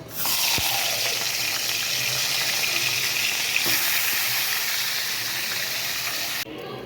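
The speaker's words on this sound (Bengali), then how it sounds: "এখন আমি মাছের মাথাগুলো ভেজে নেব।" Fish heads frying in a pan give a steady, close sizzle with hissing and small crackles that runs almost the whole time, with a brief clatter near the start and a sudden drop just before the end.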